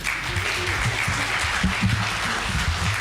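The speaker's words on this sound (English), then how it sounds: "start clapping" Audience at a meeting of Meru professionals and business community clapping for Raila Odinga, a dense steady wash of applause with a low murmur of crowd voices beneath.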